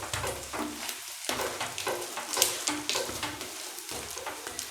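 An omelette fries in oil in a non-stick pan with a continuous sizzle, broken by scraping stirs and pan movements from a spatula, close and fairly loud with no talking.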